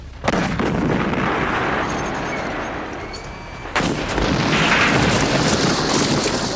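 Heavy artillery fire from Afghan forces shelling Pakistani territory in 1950: two loud booming blasts several seconds apart, each followed by a long rumbling roll.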